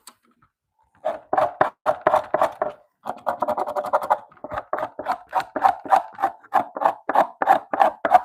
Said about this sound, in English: Buckskin ain't scraping itself, y'all.